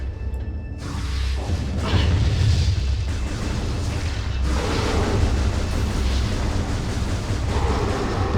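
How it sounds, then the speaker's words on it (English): Space pirates fire an explosive gun in the Metroid Prime 2 video game, giving loud, sustained booming blasts with whooshing bursts that roll continuously over several seconds. "the gun these pirates have is a bit different from the usual energy blasts they send. Explosives?"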